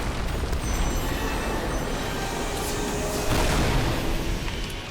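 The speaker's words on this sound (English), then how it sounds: "Alright, we got one more bomb." A bomb blows up in the video game Lara Croft and the Temple of Osiris. It makes a dense, loud, rumbling roar that runs the whole time and swells louder near the end.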